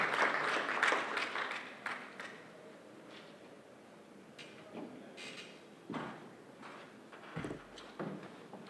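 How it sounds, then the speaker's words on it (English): Scattered audience applause at a physicians' coaching seminar, louder at first then thinning to sparse, fairly faint claps, heard alone without talk. "A big round of applause for them."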